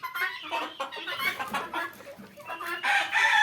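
A rooster crows loudly and close on a small poultry farm in Bakshiganj, Jamalpur, that keeps tiger chickens, turkeys and other fowl, while other hens cluck and call around it in overlapping bursts.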